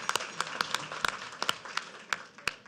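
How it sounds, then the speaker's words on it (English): Audience at a Norco city council meeting applauds for Tim Anderson, a steady patter of scattered claps from a modest crowd in a meeting room, with sharper individual claps standing out. "let's give him a round of applause"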